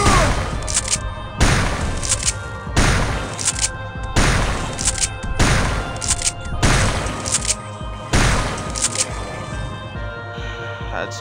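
Grenade blasts and plasma shots in a video game firefight burst out loud in a steady, repeating rhythm, one heavy hit roughly every second or so.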